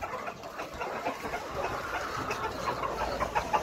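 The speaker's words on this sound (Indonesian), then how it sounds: "Lihat Mas Yoga lagi ngasih ayam umur 1 bulan ya Mas." One-month-old chickens cluck and peep in a steady, busy chorus, close by, with a faint background hum.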